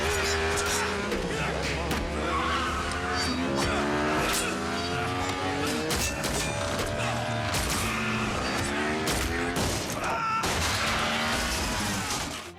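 A motorcycle chase action scene from a film plays as a dense, loud mix of engines revving up and down, screeching tyres and sharp gunfire-like bangs, continuous throughout.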